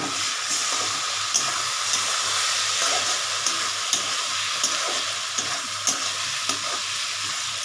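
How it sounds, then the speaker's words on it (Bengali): Spice paste of ground coriander, cumin, chilli and turmeric mixed with water frying in a pan for ghugni with onion and garlic: a steady close sizzle with scattered scraping stirs, no talk. "মশলাটা একটু কষানো হোক।"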